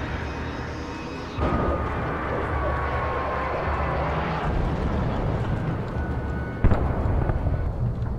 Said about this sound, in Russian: Они еще вертолет наебнули.